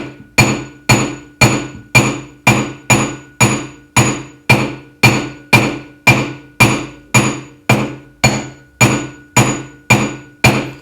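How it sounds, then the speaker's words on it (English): A metal hammer strikes a silver ring seated on a steel ring mandrel, giving about twenty sharp, evenly spaced ringing taps in a steady rhythm, loud and close, with no talking. "You simply just hit it from all different directions."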